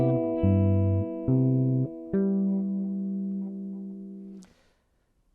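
Fingerstyle guitar plays a short passage from a tune, a few plucked chords over a moving bass line, the last chord held and ringing until it fades, close and clear with no talking.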